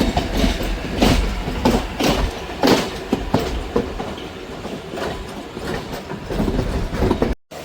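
A local train rolls along the railway with a loud, steady rumble and repeated clickety-clack of wheels over rail joints, heard up close without speech.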